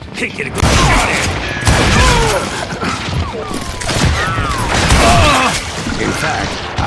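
Gunfire from the Call of Juarez: Gunslinger video game rings out as loud, dense volleys of overlapping shots with ricochet whines, continuous and close throughout, mixed with shouting voices.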